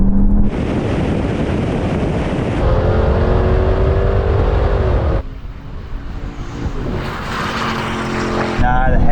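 Porsche, Audi and Hennessey performance cars in manual mode accelerating hard from a rolling 50 mph start, a loud sustained engine roar with rising gear pulls and heavy wind buffeting, briefly dipping before surging again.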